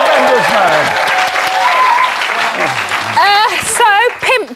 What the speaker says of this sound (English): Pete Burns, give him a round of applause.